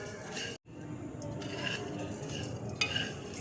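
Sugar melting in a pan for caramelized bhuna chai is stirred with a utensil, a close soft sizzle under scraping and a couple of light metallic clinks against the pan.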